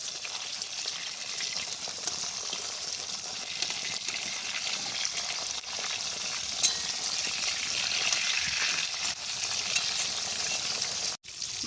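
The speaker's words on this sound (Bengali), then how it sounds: "মাছগুলোকে উল্টে পাল্টে ভেজে নেব।" Katla fish pieces sizzle and crackle steadily in hot oil in a pan, a bright continuous fry with no talking.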